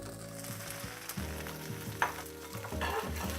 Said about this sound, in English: So to saute the oyster mushrooms, I'm going to start with some extra virgin olive oil in a really hot pan.